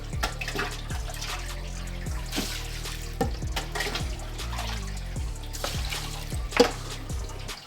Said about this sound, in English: Just gonna add a bit more water to that.